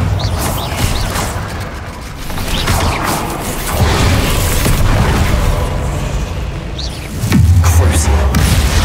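Bombarda explosion spell in the Hogwarts Legacy video game: booming blasts with crashing debris and mechanical clatter, loud and sustained, ending in a deep heavy impact near the close.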